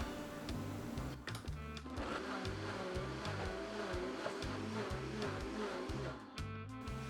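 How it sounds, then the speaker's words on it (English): A blender purées oxtail recipe ingredients, whirring steadily close by, its motor churning with a pulsing, chopping rhythm as contents tumble inside. "I'm gonna start blend"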